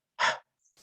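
A single audible breath is exhaled to show the sound of the Hebrew letter Hey. It comes as one soft, airy huff up close, followed by a fainter breathy trace.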